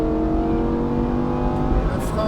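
A Lamborghini Huracan STO accelerates hard on the Lohéac race circuit, its engine note climbing steadily and loudly from inside the car while an instructor's voice sounds beneath it.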